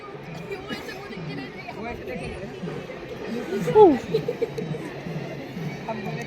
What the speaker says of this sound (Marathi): वाढायला लागली हा गर्दी बघता बघता